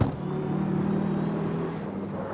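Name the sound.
video game sports car engine at low RPM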